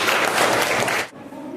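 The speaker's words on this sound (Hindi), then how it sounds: "इसके लिए ताली बजना चाहिए" Children clap together in a classroom, a burst of loud close applause for about a second that stops abruptly, leaving quiet room noise.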